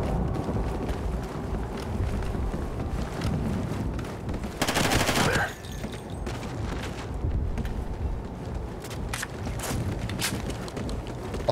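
Unsuppressed rifle fire in Call of Duty Ghosts, scattered shots and short bursts over a busy battlefield bed, with one loud blast near the middle standing out.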